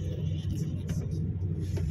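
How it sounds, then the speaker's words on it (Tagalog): Trucks carrying cattle rumble in at a staging area, a low engine drone steady and moderately close, with faint voices in the background. "Tuloy po ang pasok ng mga truck."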